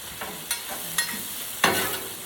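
Seasoned meat sizzles in a pan while being stirred, a steady frying hiss broken by three or four distinct scraping strokes of a utensil, close up and with no speech.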